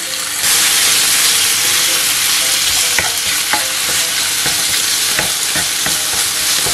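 Chopped chicken added to softened onion sizzles loudly and steadily in a hot pan, with intermittent scraping clicks of stirring over the continuous frying hiss.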